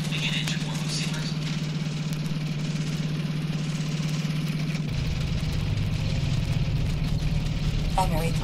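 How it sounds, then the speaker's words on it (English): A science-fiction spacecraft engine warm-up effect from a Disneyland outer-space sound record: a continuous droning hum with a low pulsing rumble that shifts to a lower, rougher tone about halfway through, with faint electronic chirps near the end. "Recon Vessel 12, begin engine warm-up sequence."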